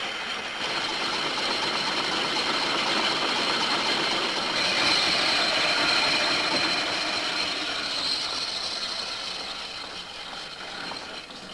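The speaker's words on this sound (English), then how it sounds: "That's what a one-cylinder engine sounds like running." A small one-cylinder engine in a classic truck runs steadily with a dense mechanical chatter, loud and close, holding an even level throughout before easing slightly at the end.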